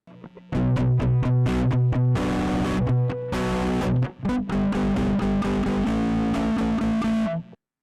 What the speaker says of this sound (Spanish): Ya pudimos escuchar que este efecto es de distorsión